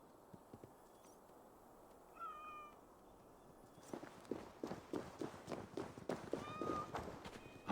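Cats meow in the Assassin's Creed Valhalla video game, a few short high meows over soft ambience, followed by a run of quick light footsteps and the faint clatter of a herd of cats moving along.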